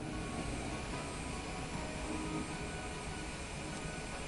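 An aircraft taxiing to general aviation parking in Microsoft Flight Simulator 2024, a steady low engine drone and whine holding constant at a moderate, distant-sounding level with no talk.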